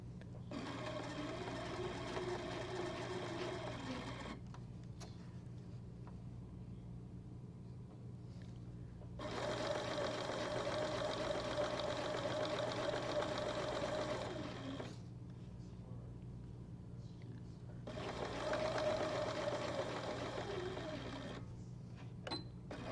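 An electric sewing machine stitches a continuous lap placket on fabric, running in three steady whirring bursts separated by quiet pauses, close up and with no voices.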